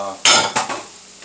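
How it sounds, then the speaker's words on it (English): Dishes and cutlery are tossed down in a kitchen, producing a loud clattering crash followed by two smaller clinks that quickly fade. "I'll be throwing my dishes."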